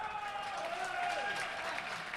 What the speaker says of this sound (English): And there, you can hear the crowd again.